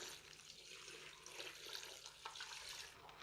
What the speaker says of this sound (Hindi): अब इसके अंदर मैं 3 लीटर पानी शामिल कर दूँगा।